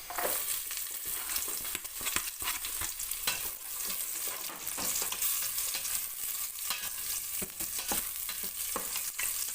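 Onions sauté in a hot pan, sizzling steadily with crackling pops and the scrape of stirring. The sound is close and continuous, and no one talks.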